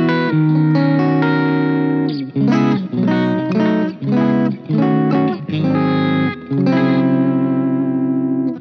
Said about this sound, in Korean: 여기에 X 컴프레서를 더하면 소리가 훨씬 좋더라고요.